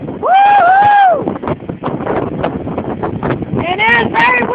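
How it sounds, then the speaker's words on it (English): Strong wind blowing outdoors on a cold day, buffeting the microphone in a loud, steady roar with rough gusts, while a person speaks briefly at the start and again near the end. "And it is very windy out here."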